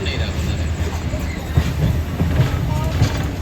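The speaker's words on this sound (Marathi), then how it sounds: "सी एस टीवरून आता ट्रेन सुटलेली आहे" The Duronto Express pulls out of CST station in Mumbai, heard from aboard as a steady low rumble of wheels and carriages with faint clicking, while people talk.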